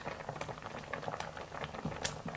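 Spiral noodles go into a pot of boiling water, which bubbles and patters softly and steadily at close range, with a few sharper pops and clicks and no talk.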